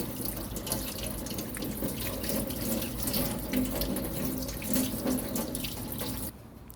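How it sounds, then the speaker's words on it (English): Running tap water rinses a watch crystal after scratch polishing, a steady close splashing stream that cuts off abruptly near the end. "Wash with running water."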